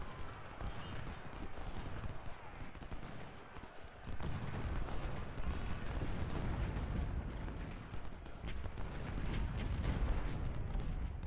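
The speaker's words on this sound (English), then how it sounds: "Another volley to the flank from Vaughn." Musket volleys crackle and boom in a Civil War battle in Ultimate General: Civil War, dense overlapping gunfire and rumbling blasts rolling continuously, loud and layered, with a heavier surge partway through.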